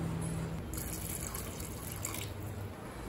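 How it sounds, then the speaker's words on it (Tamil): Water pours steadily into a pressure cooker holding chickpea gravy with soaked black chickpeas and garam masala, a faint, continuous splashing trickle with no talk. "தேவையான அளவு தண்ணி சேர்த்துக்கோங்க."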